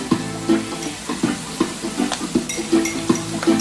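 Garlic and ginger frying with pork in a hot pan, a steady sizzle broken by repeated stirring scrapes at a fairly even rhythm, close and moderately loud with no talking.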